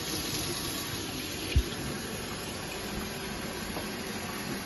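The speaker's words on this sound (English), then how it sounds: "I'm gonna rinse." Water runs steadily from a tap during a mouth care procedure, a faint, even rushing with one brief soft knock partway through.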